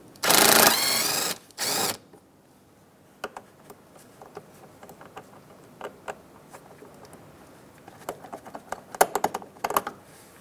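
Bolt being loosened from the A/C condenser bracket with its rubber isolator on a Mazda CX-9, heard as a quick, loud burst of rapid ratcheting clicks, then a brief pause and a second short burst, followed by scattered light tool taps and handling clatter.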